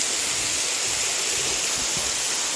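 A spring waterfall at an old quarry in Sloppy Floyd State Park in northwest Georgia, heard as a steady, loud, broadband rush of falling water with no talking.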